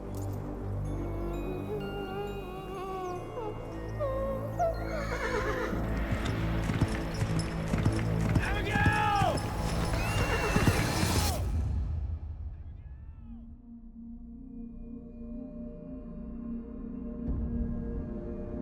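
A horse whinnies and snorts amid a busy mix of sounds, with shuffling movement, then the scene drops to a quieter, steady low hum.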